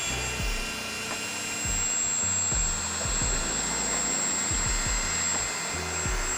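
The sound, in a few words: electric air pump inflating inflatables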